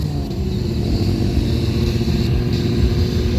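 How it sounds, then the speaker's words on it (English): Stunt motorcycle engines at a bike show during a two-brothers stunt display, with a rider attempting a headstand in a circle wheelie. A loud, steady engine roar with low rumble holds throughout, without voices. "So Trina's going to go for a headstand while doing a wheelie"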